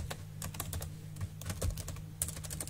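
Quick, irregular clicks of a computer keyboard as code is typed, crisp keystrokes coming in bursts over a low steady hum, close and moderately quiet, with no talking.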